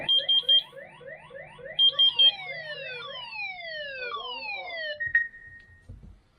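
An X-Sense water leak detector sounds its alarm: rapid clusters of shrill beeps give way to sweeping, falling electronic siren tones that overlap, then cut off with a brief click, loud and close with no talking.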